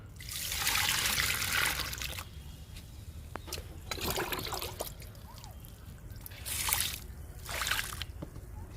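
Homemade liquid fertilizer of lentils, chickpea cake, tea powder and egg powder pours onto potted chilli plants, trickling and splashing in several separate bursts, fairly close.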